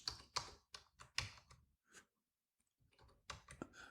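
Computer keyboard typing at a desk, quick bursts of clicky keystrokes with a pause in the middle, close and fairly quiet, then a final flurry of keys.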